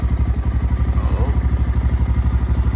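A motorcycle engine fitted with a 30mm Nibbi carburetor idles close by with a steady, even pulsing thump, a rapid regular beat throughout.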